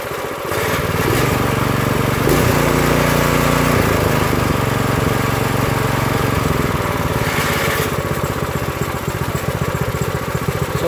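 An Earthquake Victory rear tine tiller's small engine runs at low idle, a steady, loud, close mechanical drone with a rapid throb that holds unbroken throughout.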